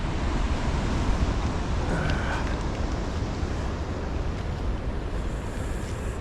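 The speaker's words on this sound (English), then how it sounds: "Definitely waves though." Ocean surf at Jeffreys Bay, a steady broadband roar of waves breaking continuously, with offshore northwest wind buffeting the microphone throughout.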